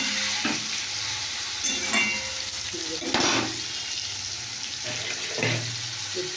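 Bay leaf and garam masala fry in hot oil with a steady sizzle, broken by a few clinks and stirring scrapes, plus brief running-water sounds in a home kitchen.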